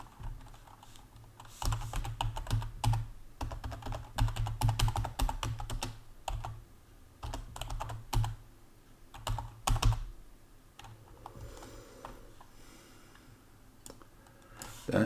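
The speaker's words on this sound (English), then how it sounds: "Let me see if I can type it down so I can see." Computer keyboard typing comes in quick bursts of close, crisp key clicks with brief pauses between runs, steady and moderately quiet throughout.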